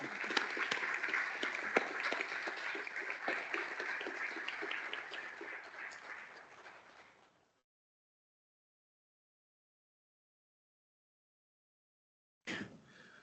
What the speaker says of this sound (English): can I just ask everyone to give these students a round of applause?